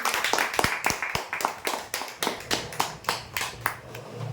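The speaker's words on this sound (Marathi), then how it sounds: "जोरदार टाळ्या हुद्यांसाठी" Rhythmic clapping at a prize draw event for winners of a four-person, six-bed prize; distinct sharp claps repeat at an even, brisk pace, fairly close and loud, with no talk over them.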